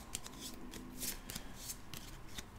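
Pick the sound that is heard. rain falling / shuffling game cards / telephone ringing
shuffling game cards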